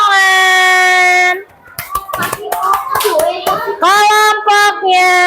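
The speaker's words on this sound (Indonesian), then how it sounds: "Baru tepuk tangan." Young children in a second-grade classroom clap their hands together in a burst of quick, loud claps, mixed with children's voices and a teacher speaking before and around it.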